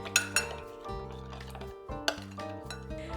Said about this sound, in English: just mix your salad dressing and keep it on the side